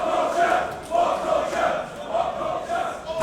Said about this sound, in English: They are cheering for both teams.